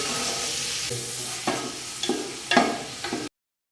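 Three large onions sizzle steadily in a cup of hot oil for beef paya while a utensil stirs and scrapes the pan several times, then the sound cuts off abruptly.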